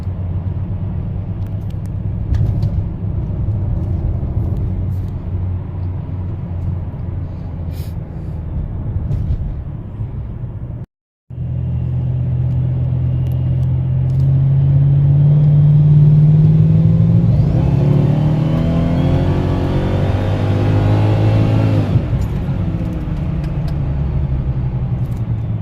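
A supercharged car with a clutch-delete supercharger pulley, heard from inside while driving: a steady engine rumble, a brief cut to silence, then a rising rev and a whining sweep as it accelerates hard before easing off.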